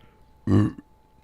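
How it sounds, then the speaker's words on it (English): A single loud, close burp erupts for about a third of a second, deep and resonant, followed by a small click and quiet room noise. "was a good burp."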